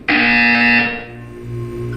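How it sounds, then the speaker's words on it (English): A harsh electronic buzzer from the Portal 2 video game sounds once, loud and close for nearly a second, then fades into a low droning hum. "You will hear a buzzer."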